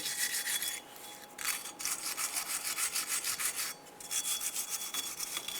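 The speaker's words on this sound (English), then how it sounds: "We want to go ahead and clean the surface here to make sure that our brake rotor has something nice and smooth to seat to." A rusty wheel hub surface on a 2008–2013 Nissan Rogue is scrubbed clean by hand during a front brake job. Rhythmic, rasping strokes repeat steadily, broken by brief pauses, close up and without talk.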